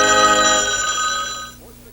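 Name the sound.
telephone bell ringing in a TV commercial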